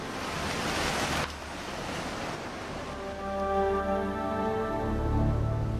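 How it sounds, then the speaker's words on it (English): Raging torrent of a flooded mountain river in Kedarnath, a steady roar of rushing water with surging churn that swells louder toward the end, heard alone without voices. "The river, at most times a pretty mountain river, had now been transformed into a violent and powerful torrent"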